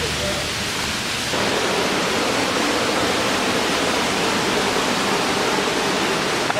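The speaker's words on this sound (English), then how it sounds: "I think this is a smaller waterfall" A small waterfall in Pai, Thailand, pours as a steady, broad rushing hiss that stays loud and continuous throughout, with no distinct breaks.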